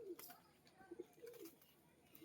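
Pigeons cooing in a village loft in Nakashipara, Nadia, with soft low coos rising and falling several times at a quiet distance.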